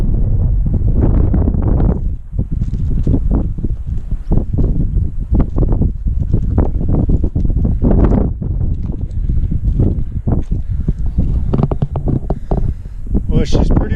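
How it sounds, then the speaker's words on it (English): Strong outdoor wind buffeting the microphone near an old abandoned building at Bayhorse, heavy gusty rumble throughout with someone talking over it. "Wind's blowing pretty good, I'm sorry."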